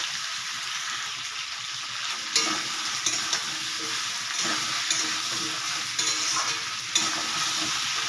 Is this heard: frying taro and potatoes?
yes